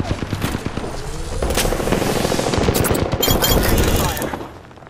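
Rapid automatic gunfire from the video game Apex Legends on Xbox Series X, loud sustained bursts with sharp transients running through most of the stretch, mixed with game effects, then tapering off at the end.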